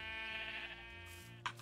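A sheep in the video game Minecraft gives a single drawn-out bleat, faint and fairly close, fading out near a short click.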